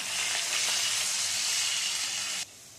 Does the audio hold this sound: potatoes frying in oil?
yes